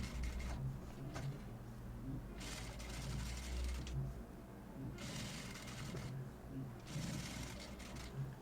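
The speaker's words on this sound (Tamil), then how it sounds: "எப்பவும் போல் வி வந்து நம்ம ஸ்டிச் பண்ணிக்கலாம்." A sewing machine stitches a blouse in three short, fast runs separated by brief pauses. The whirring is close and fairly quiet, with low background murmur in between.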